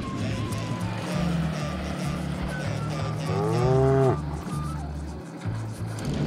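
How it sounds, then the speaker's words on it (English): A cow lets out a long, loud moo close by on a Utah backcountry road, with outdoor rumble and other low bovine sounds around it. "he had two missing cows and we have located them."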